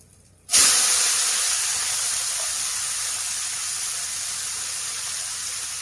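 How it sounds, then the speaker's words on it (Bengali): Chopped onions dropped into a hot oiled pan burst into a loud, sudden sizzle that settles into a steady, close, continuous hiss with no talking. "এবার দিয়ে দেবো কুচো করে রাখা পেঁয়াজগুলো।"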